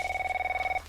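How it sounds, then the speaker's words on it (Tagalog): A telephone rings in a quick, steady electronic trill of about sixteen even pulses. It is heard alone with no talk, and the ringing stops abruptly near the end. "Ti telepono, agri-ring."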